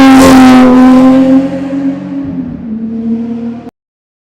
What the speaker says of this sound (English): those 6-cylinder BMWs do have a brilliant sound